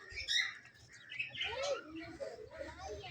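Cockatiels and lovebirds chirp and tweet in a busy mix, with soft pigeon cooing underneath, fairly close and faint overall, in a village.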